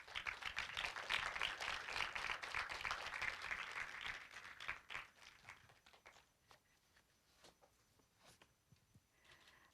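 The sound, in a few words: audience applause at an awards ceremony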